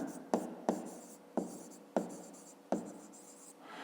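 Pen strokes on paper while writing numbers by hand for a fifth-grade math exercise: close, quiet scratching in short repeated bursts, each starting with a sharp tap, about five in a row.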